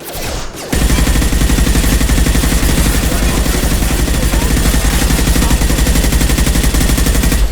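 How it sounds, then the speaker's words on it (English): Relentless machine gun fire in the video game Mass Effect 2, a loud continuous rattle of rapid shots after a brief pause, steady and unbroken for over six seconds. "He's gunning down his own crew to keep control?"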